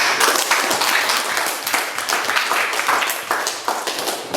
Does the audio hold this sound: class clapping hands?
yes